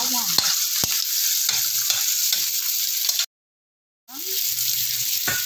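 Onion and garlic being stirred in a hot frying pan, a continuous oily sizzle with scraping strokes of a utensil against the pan, briefly cut by a moment of silence before the sizzling resumes.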